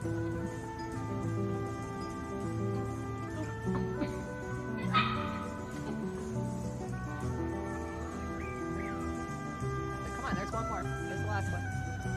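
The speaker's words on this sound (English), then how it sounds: "This is a little puppy getting reunited with her babies" Puppies reunited with their mother dog whimper and yip in high, wavering cries under ongoing overlapping human talk.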